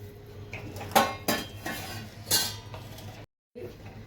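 A metal cooking pot handled while rice is set to cook with added water and salt, giving a few sharp clanks and scrapes against a quieter kitchen background, close by, with a brief silent gap.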